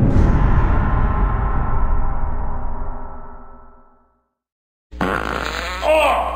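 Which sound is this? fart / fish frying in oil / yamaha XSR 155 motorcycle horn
fart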